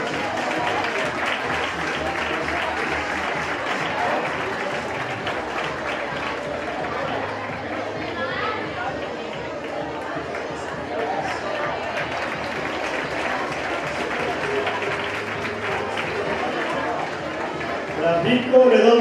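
Sustained crowd applause at a children's carnival costume contest, dense clapping and crowd noise that runs continuously and swells slightly at the end, with an announcer's voice mixed in.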